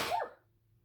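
A single quick sneeze, a sharp, noisy burst that fades out within a fraction of a second, close and otherwise quiet.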